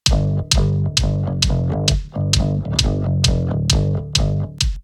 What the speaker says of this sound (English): I'm going to solo up the kick and the bass,